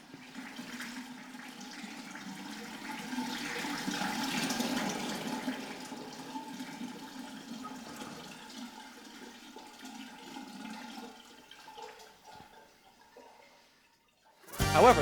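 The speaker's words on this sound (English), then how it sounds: "I'm just gonna pause while these toilets flush for no apparent reason." Toilets flush in an indoor restroom, a long steady rush and gurgle of water that tapers off over about fourteen seconds before a brief louder burst at the end, with no talking.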